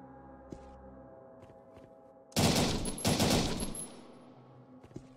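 Loud burst of rapid gunfire in a post-apocalyptic video game, a dense volley lasting about a second and a half before trailing off, with a few faint footsteps and quiet ambience around it.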